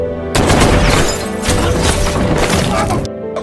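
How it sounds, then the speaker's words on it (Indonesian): Gunfire from the film Captain Phillips as the hijackers are shot: a dense, loud volley of overlapping shots and impacts rattles on for about three seconds. "tak lama kemudian bunyi tembakan terdengar disertai dengan percikan darah para"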